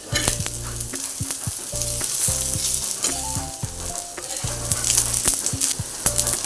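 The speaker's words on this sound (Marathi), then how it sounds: "छान कांदा खोबरं भाजलेलं आहे." Onion and grated coconut roast and sizzle in a pan for a spicy Malvani chicken curry, a steady close frying crackle with scraping stirs and clinks throughout.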